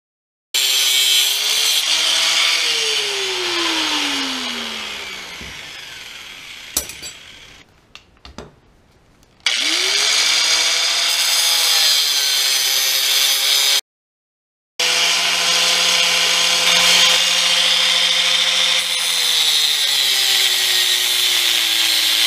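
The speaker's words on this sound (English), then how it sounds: "we'll make a cut here and here with the grinder" Angle grinder cutting through a steel steering shaft on a Foxbody Mustang, a loud whining grind with pitch sweeping down under load. It runs in three long passes separated by brief stops and spin-downs.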